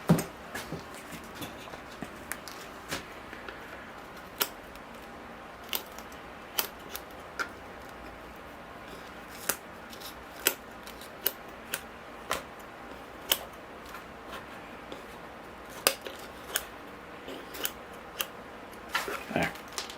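Willow bonsai roots matted in the pot are snipped away with sharp, scattered clicks over a quiet background, close and crisp, with no talking.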